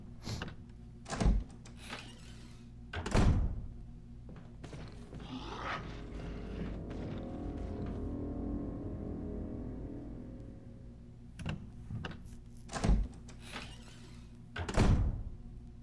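A door opens in the Resident Evil Remake video game: heavy thuds and creaks come at intervals, framing a long, slow, low creaking swing in the middle, with no speech over it.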